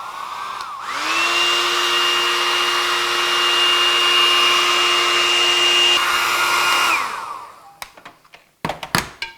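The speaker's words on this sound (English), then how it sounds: "just my hair dryer, and we're going to dry it" A hair dryer blows a steady whirring whine for about six seconds while drying a whole raw chicken before salt baking, then cuts off, leaving a few sharp handling knocks.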